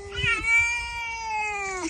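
A single long, drawn-out cat meow, clear and close, rising then falling, with faint low background noise.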